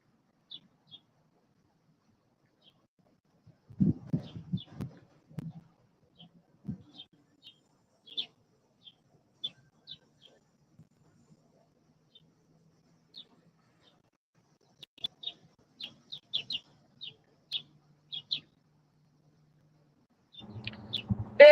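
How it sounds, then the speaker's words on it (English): A bird in a tree gives faint, thin chirps spread sparsely across a long quiet stretch, sometimes in short quick clusters. Between the calls come a few soft thumps and some low handling noise. "there's a bird about 8 feet from it"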